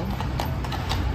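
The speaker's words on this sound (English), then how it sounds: "The horses!" Horses' hooves clip-clopping in a steady, even rhythm, moderately loud against a constant background hum, with no talking.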